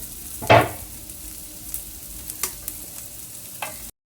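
Onion, garlic, masala powder, cumin powder and turmeric being stirred and roasted in a pan with tomato, giving a soft steady sizzle with a few louder scraping stirs of the spoon, no talk.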